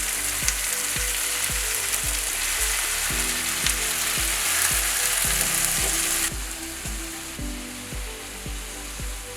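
Beef and green chillies sautéing in a pan, a loud continuous sizzle with a steady hiss and a faint rhythmic hum beneath, no one speaking.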